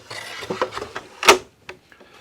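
A wooden drawer box slides onto Blum Tandem drawer slides in a face frame cabinet, a series of light clicks and scrapes ending in a sharp, bright clack as it seats, followed by a couple of faint taps.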